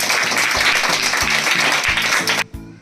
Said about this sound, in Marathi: एकदा जोरात टाळ्या वाजवून द्या.